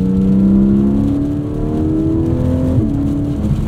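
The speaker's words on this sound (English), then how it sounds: "This new 4-liter has a bit more of a lower guttural tone to it." A 2024 Porsche 718 Cayman GTS with the 4.0-liter flat-six and PDK gearbox drones loudly and steadily from the cabin, its low guttural tone rising smoothly through the revs with a brief dip and recovery near the end.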